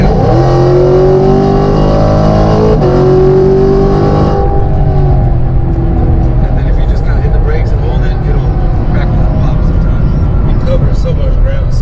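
A 2019 Chevrolet Camaro SS running on E85 accelerates hard, its loud engine roar climbing steadily in pitch, breaking at a shift, then continuing as a dense, strained drone from inside the car.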